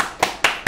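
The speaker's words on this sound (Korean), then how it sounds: "박수!" Three sharp hand claps, evenly spaced and close, ring out alone in a classroom-style English grammar lecture, marking the end of a lesson.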